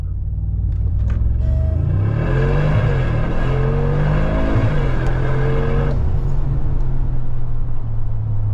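A Mercedes G63 AMG V8 launches from a standing race start, its engine roaring loud and close as revs climb through several gear changes, with steady heavy rumble and wind noise throughout, no talk.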